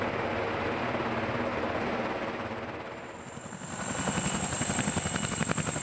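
Chinook tandem-rotor helicopter powered by twin Honeywell T-55 engines, a loud continuous rotor roar and turbine whine with rhythmic blade chop building in the second half, close by, no voices.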